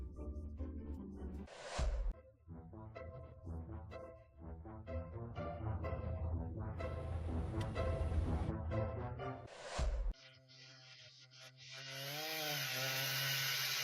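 A chainsaw cuts through a tree trunk in a forest, its engine droning steadily with rising and falling revs, broken by short pauses and ending in a bright, sustained high whine.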